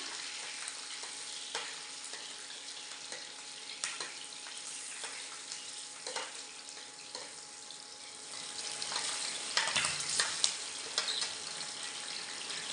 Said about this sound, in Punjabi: ਹੁਣ ਇਹਦੇ ਵਿੱਚ ਆਪਾਂ ਪਾ ਦਾਂਗੇ ਲਸਣ ਤੇ ਹਰੀ ਮਿਰਚ ਇਹਨਾਂ ਨੂੰ ਵੀ ਆਪਾਂ ਚੰਗੀ ਤਰ੍ਹਾਂ ਬ੍ਰਾਊਨ ਕਰ ਲੈਣੇ